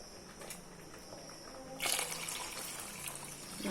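Water trickles softly, then pours in a louder splashing stream into a cooking pot, nearby and without talking.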